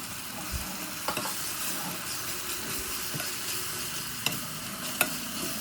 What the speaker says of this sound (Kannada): ಬಿರಿಯಾನಿ ಪೌಡ್ರನ್ನ ತಿರುಗಿಸ್ಕೊಳ್ಳಿ.